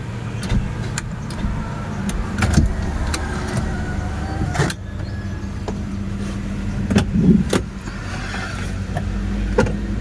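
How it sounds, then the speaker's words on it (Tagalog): A 2016 Toyota Avanza car engine turns over and settles into a steady low idle rumble close by, with a few sharp clicks and knocks over the hum. "Mag-start na tayo ng engine mga kamaster"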